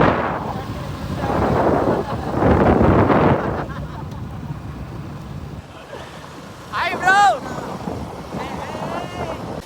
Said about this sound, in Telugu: ఇదే అనమాట బైరోకానా వాటర్ ఫాల్స్